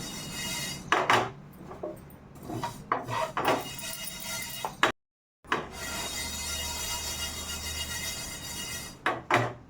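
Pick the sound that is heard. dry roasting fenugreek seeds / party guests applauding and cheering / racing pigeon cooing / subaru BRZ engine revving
dry roasting fenugreek seeds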